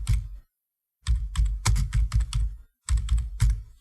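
Bursts of typing on a computer keyboard while entering on-screen caption text in video editing software, with rapid close key clicks in clusters separated by short pauses.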